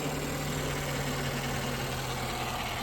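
A Jaguar F-Type R sits idling, a steady, continuous low engine drone with a constant hum and no change in revs, heard up close without talk.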